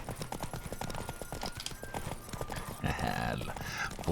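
Horse hooves gallop in a steady, rapid clip-clop rhythm in The Witcher 3 video game, loud and close, with game sound effects and music layered over the hoofbeats.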